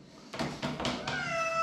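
Cat meowing repeatedly from inside a pet carrier at a vet visit, four loud close meows in quick succession with a faint whistle-like tone near the end.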